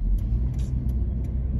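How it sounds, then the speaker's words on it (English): A blue Ford car drives past on a street in Pine Bluff, Arkansas, a soft low rolling rumble that stays fairly faint and steady over less than two seconds, with no voices. "Nice blue car."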